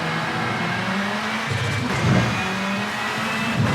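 An RX2 rally car in the racing game V-Rally 4 accelerating hard, its engine a loud, close, steady roar with the revs climbing, and no voices over it.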